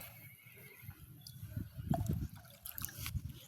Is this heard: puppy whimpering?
no